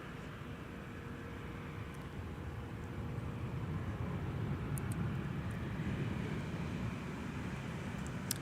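Delta Airbus A319 jet taking off from a runway at Minneapolis–St. Paul airport, a steady broad engine roar that swells slightly midway and holds, heard from a distance with no talking.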